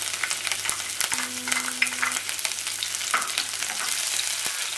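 Garlic cloves sizzling in hot oil with popped mustard seeds and fenugreek for a rustic green chilli pickle, a steady close frying crackle with a few stirring clinks, no voices.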